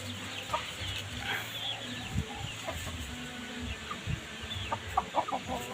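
A fighting rooster clucks in short bursts over steady farmyard background noise, with scattered faint bird calls and no talk.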